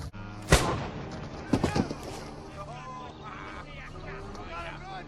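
A sharp, loud gunshot in a pirate film scene cracks out early, followed by a quick cluster of further bangs, then a noisy scene with voices murmuring underneath.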